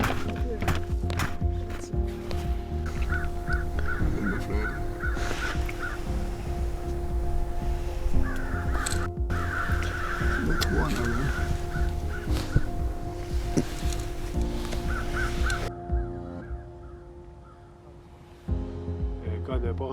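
American crows caw repeatedly during a winter crow hunt in Quebec, with hoarse calls coming in short bursts at mid-distance over outdoor rustle and movement noise, and the calls stop near the end.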